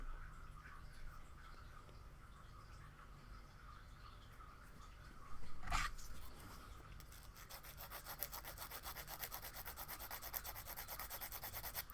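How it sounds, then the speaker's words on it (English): A wad of hardened CA glue being sanded in a craft shop gives a quiet, steady scratchy rubbing that turns into faster rhythmic strokes, with a sharp knock partway through. "So what I'm doing is actually sanding the wad of CA glue."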